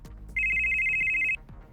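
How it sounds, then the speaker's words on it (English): A telephone rings once in a single steady electronic trill lasting about a second, clear and close, with faint background noise before and after. "Kaze, on your way back to Jotunheim, you're going to get a phone call."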